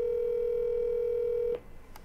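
A telephone dial tone plays while a call is being placed: one steady, loud, continuous tone that cuts off abruptly, followed by faint quiet noise and a soft click.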